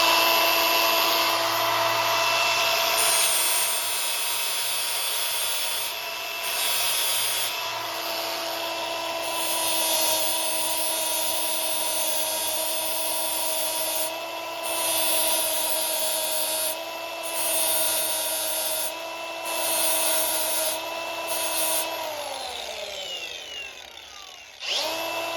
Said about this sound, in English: And I'm just using a flapper disc because I don't want to damage anything.